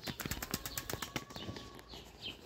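Hünkâr pigeons on their evening flight flap their wings in a rapid, irregular flurry of beats, with faint chirps toward the end and no talking.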